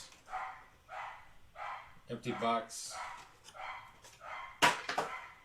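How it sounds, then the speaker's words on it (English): A dog barks in a series of short, repeated woofs indoors, close by, interleaved with someone talking. "Goddamn dog. Shut up."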